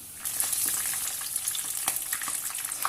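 Batter-coated vada pav dumplings deep-fry in hot oil, giving a continuous bright crackling sizzle with small popping bursts, close by and alone without voices.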